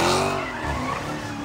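A Dodge Hellcat skids at a street takeover, its tires squealing in a loud, wavering screech over engine noise, heard close up in a brief burst.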